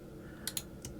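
Two quick keyboard key clicks close together, then a third a moment later, crisp and close on a quiet computer setup during leathercraft pattern design software use.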